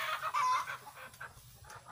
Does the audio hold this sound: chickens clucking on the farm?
yes